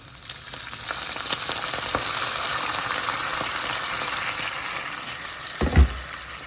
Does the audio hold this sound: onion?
yes